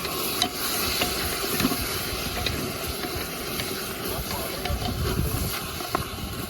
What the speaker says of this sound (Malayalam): ഉള്ളിയൊക്കെ നന്നായി വഴറ്റി വന്നതിന് ശേഷം നമുക്ക് തക്കാളി ഇട്ട് കൊടുക്കാം